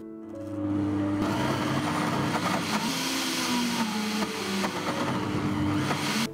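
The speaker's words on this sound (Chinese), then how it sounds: "可以加一点水，再用搅拌机打成泥。" Kitchen blender motor whirring loudly as it purees soft cooked mung beans with a little added water, a steady churning roar starting after a brief quiet moment and running alone to the end.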